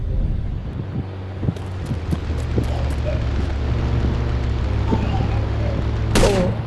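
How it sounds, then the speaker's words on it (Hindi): Machine gun fire in a video game, rapid bursts of shots over a windy, rumbling backdrop, with a louder burst near the end. "अब मैं वापस अपनी मशीन गन का यूज करूंगा।"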